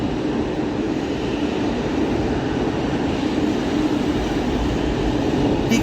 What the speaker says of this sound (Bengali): দেখতে দেখতে আমাদের ট্রেন এসে গেল।